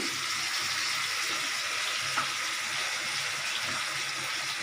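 Running tap water rinses leftover spice paste from a utensil while cooking a peas-fritter curry, a steady broadband splashing flow with no voices.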